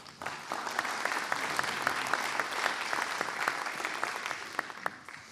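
A conference audience at an opening session claps in dense, sustained applause that carries steadily throughout at even strength, with no speech over it.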